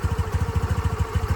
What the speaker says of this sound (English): It's starting to idle a little bit.